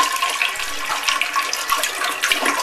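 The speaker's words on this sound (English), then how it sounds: "So here's a U.S. toilet. And it's going clockwise." A US household toilet flushing, with steady rushing and swirling water close by, a continuous gurgling wash at even loudness from start to finish.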